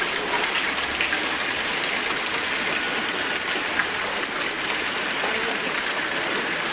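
Heavy rain pours down steadily with a dense, broadband hiss and the gushing rush of flowing water, continuous and loud throughout with no pauses.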